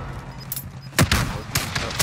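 Gunfire in the video game Call of Duty Warzone: several sharp, loud close shots in quick succession over a noisy background.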